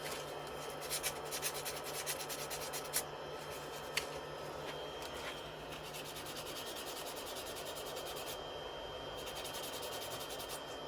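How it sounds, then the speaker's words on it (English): Sandpaper held by hand against a spinning wooden baby rattle on a woodturning lathe makes a steady, close rubbing hiss over the lathe's low hum, with a few sharp ticks, and no voices. "We're going to put a little bit of sandpaper across the top of this,"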